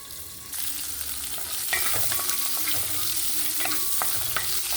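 Ivy gourd frying in ghee inside a covered pan, a steady close sizzle with faint scraping and light clinks over continuous hiss, no talking.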